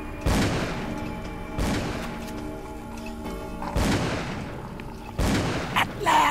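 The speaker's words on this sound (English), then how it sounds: "Keep shooting!" Four heavy booming gunshots from a firearm in the horror video game Call of Cthulhu, spaced a second or two apart, each with a sharp attack and a ringing decay.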